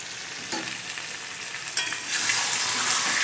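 Mutton curry sizzles steadily in oil in a pan, a dense crackling fry that grows louder and brighter about two-thirds of the way through, with no talking.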